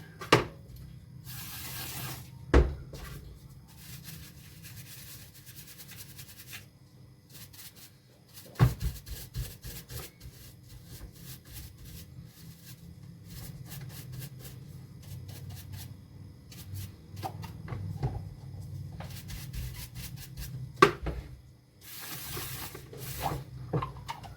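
Small parts from the carburettor of a 1981 Johnson 4hp Sea Horse outboard are rubbed clean, giving close, quiet scrubbing and wiping in long stretches, broken by a few sharp knocks and clatters, with no talking.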